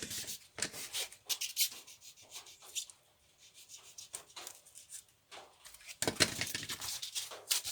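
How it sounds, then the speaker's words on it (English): Edge of an orc prop blade being rough-sanded by hand, rhythmic rasping strokes in bursts with short pauses, close and fairly loud, with no talking. "Okay, let's give that a rough sand."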